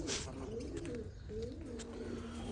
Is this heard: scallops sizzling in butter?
no